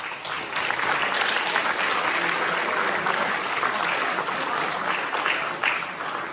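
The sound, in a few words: applause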